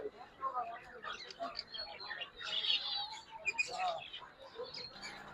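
Pet birds, including a breeder pair with a pineapple conure, chirp and twitter softly in scattered calls while a person talks throughout.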